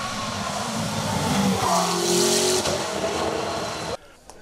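A McLaren MP4 12C race car at a hill climb roars loudly and steadily near the listener, its engine note rising as it accelerates past, then cutting off abruptly at the end.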